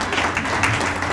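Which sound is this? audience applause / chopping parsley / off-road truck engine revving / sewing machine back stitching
audience applause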